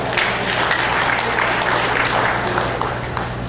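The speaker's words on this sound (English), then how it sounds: "Please give me a good round of applause." Applause from an audience at a formal gathering, steady and dense throughout, with a constant low hum running underneath.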